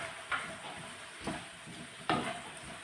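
Potatoes coated with turmeric and chili powder stirred in a pan for a Kerala mezhukkupuratti, with a soft steady sizzle and a few scraping stirs of the spoon against the pan, no talking.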